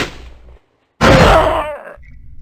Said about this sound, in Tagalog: ang pag-alingawngaw ng isang putok